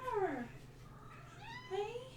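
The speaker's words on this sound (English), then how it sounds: "You might be able to hear our cat in the background." A house cat meows twice in the background during a charity gaming livestream, a long drawn-out call and then a shorter one, moderately faint against a low hum.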